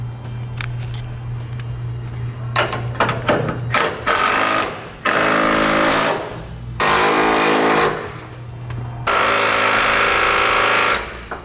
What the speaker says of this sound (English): tighten down the plate that goes to our frame. We'll tighten down the large bolt, this one, and this one